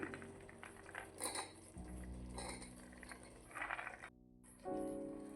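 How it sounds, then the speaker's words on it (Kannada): Chopped vegetables tipped into a frying pan with oil and stirred in, giving soft clinks and scrapes of a spoon against metal over a low hum, with a brief hush before the stirring resumes. "ಇವಾಗ ಕಟ್ ಮಾಡಿರೋ ವೆಜಿಟೇಬಲ್ನ ಸೇರಿಸ್ಕೊಳ್ಳೋಣ ಇದಕ್ಕೆ"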